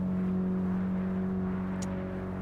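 A Mercedes-AMG GT Black Series engine drones at steady revs while lapping the Nordschleife, heard from inside the car as a constant loud hum with a brief sharp tick near the end.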